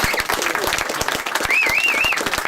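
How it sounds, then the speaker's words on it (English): An audience claps in a steady, dense burst of applause indoors, with a whistle cutting through partway and voices faintly mixed in. "let's have a round of applause for David Pleasance."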